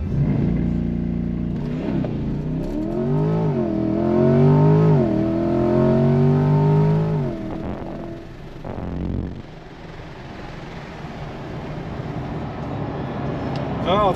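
A C8 Corvette does a launch control 0 to 60 run, its engine revving hard and climbing through rising pitch sweeps with a brief shift dip before settling into a lower, steadier roar.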